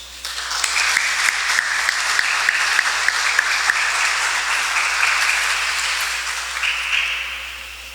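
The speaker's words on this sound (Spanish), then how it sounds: "darles el aplauso a los que cumplen años" A congregation at a Catholic Mass breaks into applause for those with birthdays, starting with a few distinct rhythmic claps that swell into steady, sustained clapping before tapering off.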